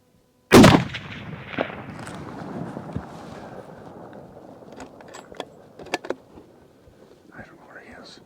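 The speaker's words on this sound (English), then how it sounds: "He comes out, I'm gonna shoot." A single loud rifle shot fired on a spring bear hunt in remote Idaho country cracks sharply near the start, then rolls off in a long fading echo, followed by faint rustling and small handling clicks.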